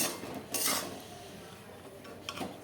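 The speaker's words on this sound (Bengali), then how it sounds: "চাল আমার সিদ্ধ হয়ে গেছে দেখুন সিদ্ধ হয়ে এসেছে আমি একটু নেড়ে নিচ্ছি" A ladle stirs boiled rice in a pot while making chalta pickle, giving two short scraping, clinking strokes of metal against the pot, fairly close and soft, with quiet between them.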